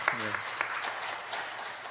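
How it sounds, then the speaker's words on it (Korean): Congregation applauding to thank God during a Friday evening church service at a Methodist church, a moderate, even clapping wash lasting the whole moment with a few sharper claps, over faint low hum and a trace of voice. "우리 한번 하나님께 감사의 박수 올리실까요?"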